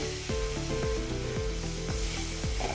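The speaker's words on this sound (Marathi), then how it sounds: "आता याच्यामध्ये आपण हा खिसून घेतलेला एक वाटी गुळ टाकून देऊया" Grated jaggery melting in hot ghee in a pan for sesame chikki gives a close, constant sizzle, broken by a few regular scraping strokes of a stirring spoon, with no one talking.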